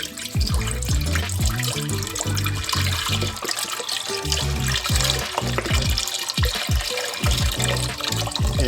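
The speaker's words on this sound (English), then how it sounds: "Putting the chicken broth in." Chicken broth pours into a cooking pot with continuous gurgling, splashing liquid, fairly loud and close, sloshing in irregular pulses throughout.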